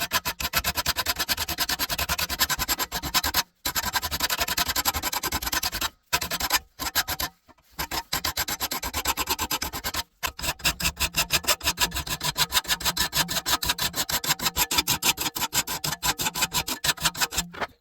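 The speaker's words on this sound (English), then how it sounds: "So that's how I sharpen my blades with a traditional file." A lawn mower blade is sharpened with a traditional hand file, giving close, steady rasping strokes in a fast regular rhythm, broken by a few brief pauses and then quickening.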